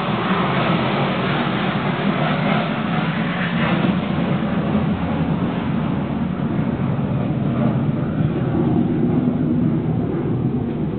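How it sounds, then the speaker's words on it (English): Steady broad roar of an airplane passing overhead, constant and fairly loud throughout, with no voices. "There's a plane that's flying over now"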